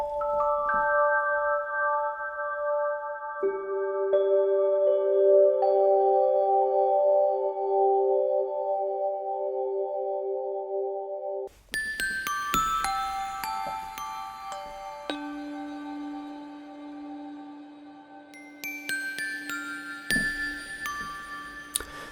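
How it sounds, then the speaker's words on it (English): Sampled glockenspiel bells ring out in sustained, clear tones, first a slow sequence of held notes, then brighter clustered strikes and shimmering runs, close and alone without any voices. "This is the glockenspiel that we sampled for the Korg Oasis glockenspiel."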